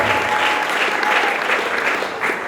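A congregation at a church gathering claps together in steady, dense applause that continues throughout, loud and close.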